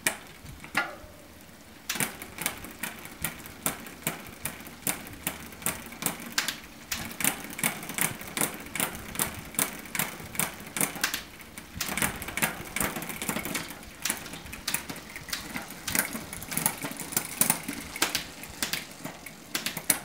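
A bicycle chain skips across the gears on a Shimano 10-speed derailleur driven by an SRAM shifter, making dense rapid clicking and ratcheting that runs almost without a break and rises and falls in short bursts, close and fairly quiet, with no voices.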